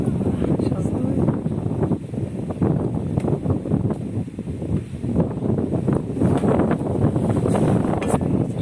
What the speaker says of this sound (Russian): Когда открываешь окно, ветер такой прям сдувает.